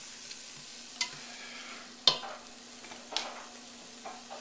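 Soft sizzling of onions and vegetables in a frying pan with intermittent sharp clacks of a utensil stirring, close and fairly quiet.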